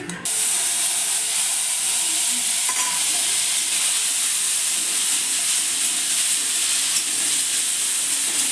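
Oil heats in a kadai on the stove while onion, ginger, garlic and green chilli paste is prepared for a stuffed pointed-gourd dish; a steady, fairly loud sizzling hiss runs throughout with no talking.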